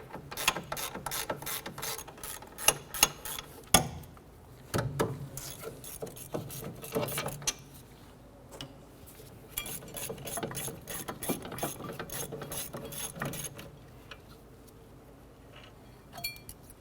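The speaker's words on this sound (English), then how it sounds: "On the back side of the brake caliper bracket, you're gonna have two 13mm bolts. I'm gonna go ahead, loosen and remove those." A ratchet clicks in quick bursts while loosening two 13mm caliper bracket bolts on the rear brake of a 2006-2013 Chevrolet Impala, with metallic clinks and pauses between runs of rapid pawl ticks.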